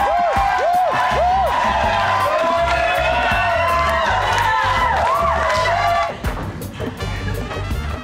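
A loud audience at a live show cheers, whoops and shouts continuously at close range, rising and falling voices blending into a dense roar that briefly thins near the end.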